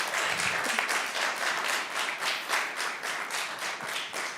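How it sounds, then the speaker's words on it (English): A church seminar audience gives a round of applause for Walt, an even stretch of many hands clapping with a slightly pulsing rhythm, moderately loud and without talk. "Let's give a round of applause for Walt."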